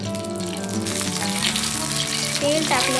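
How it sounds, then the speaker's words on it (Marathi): Green chillies roasting in a spoonful of hot oil in a pan for Maharashtrian thecha, giving a steady close sizzle and crackle throughout, with background music tones running underneath. "आपल्या मिरच्या पटकन भाजल्या जातात आणि छान अशा भाजून होतात।"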